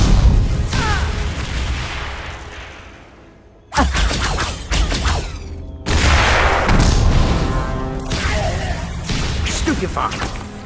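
Repeated booming Confringo spell blasts in the Harry Potter and the Deathly Hallows video game on PS3, loud explosive bursts with whooshes and crackling debris in quick succession, mixed with shouted in-game voices.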